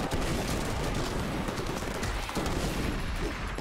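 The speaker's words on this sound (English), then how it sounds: "I think there's a man shooting at me." Enemy gunfire in Madness: Project Nexus, a rapid, dense barrage of shots that runs loud and nearly continuous for the whole stretch.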